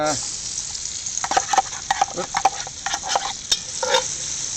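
Onions frying in a Dutch oven sizzle close up, with repeated scraping and clinking strokes of a slotted spoon stirring them through the hiss.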